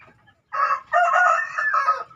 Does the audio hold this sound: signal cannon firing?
no